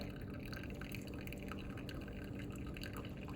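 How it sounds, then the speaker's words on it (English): Liquid is poured freely over the top without measuring, giving a faint, quiet trickling and splashing that runs continuously through the moment. "Just pour it on top there with no measuring."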